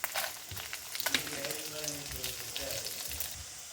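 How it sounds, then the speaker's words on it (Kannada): Mustard seeds, fenugreek, urad dal and chilies splutter in hot oil with curry leaves for a brinjal palya, a crackling sizzle with sharp irregular pops and light stirring clatter from the pan. "ಸಾಸಿವೆ ಹುಚ್ಚುತ್ತಾ ಇತ್ತಲ್ಲ, ಮಸಾಲೆ ಎಲ್ಲ ಹುರಿದಾಯ್ತು"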